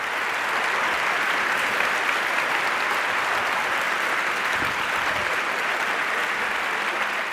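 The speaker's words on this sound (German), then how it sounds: "Linus, dein Applaus." Sustained, dense applause from a live audience at a German poetry slam, honoring performer Linus Möllenbrink; steady, loud clapping fills the whole stretch without pause and without any voices.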